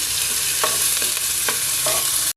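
Garlic and ginger sauté in oil over low-medium heat for pork kare-kare, giving a steady bright sizzle with a few soft stirring scrapes, close and continuous, with no talk.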